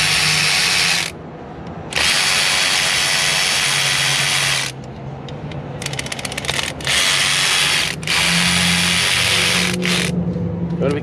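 A power tool with an Allen bit spins on the upper valve cover bolts of a 2005 LLY Duramax diesel engine, making loud whirring bursts separated by short pauses, close up.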